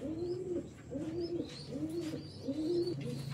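Oman Teddy pigeons coo in a steady rhythm, about four low rolling coos close by at moderate volume, with faint higher chirps in the background.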